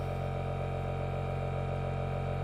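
A cheap portable $40 air compressor runs nearby with a dense, loud, continuous mechanical drone, a deep steady hum and a buzzing rattle that never lets up.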